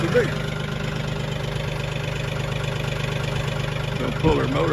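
An old tractor engine idling nearby with a steady, low, even chugging that holds throughout, and a brief louder bump just before the end.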